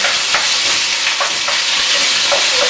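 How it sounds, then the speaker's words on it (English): Steady, loud sizzling of shrimp frying in a hot pan, a dense crackling hiss with brief sharper pops scattered through it. "Let it sizzle."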